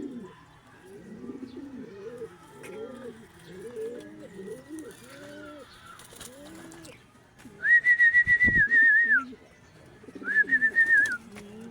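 Pigeons coo in a low, rolling rhythm near the loft, then a sharp, shrill whistle blows twice as a racing pigeon back from Padre Burgos, Quezon Province, drops in.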